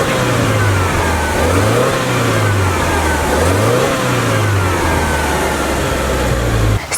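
A 2022 Subaru Outback Wilderness engine revs up and down repeatedly for about seven seconds, its pitch rising and falling in broad sweeps over a steady idle. The sound is close, loud and continuous, with no talking.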